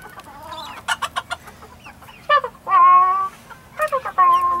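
Several chickens, including Old English breeds, cluck close by indoors in short bursts and drawn-out calls, with a steady low hum underneath.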